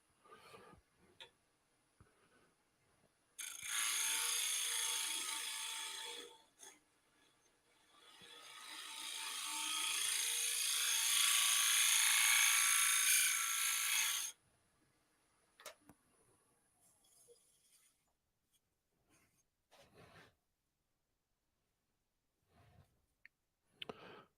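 A bowl gouge cutting a spinning wooden basket handle on a lathe: two sustained, loud, hissing scrapes of about three and six seconds, then scattered quiet knocks and clicks, with no talking.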